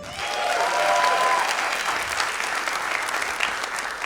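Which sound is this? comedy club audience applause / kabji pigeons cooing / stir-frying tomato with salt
comedy club audience applause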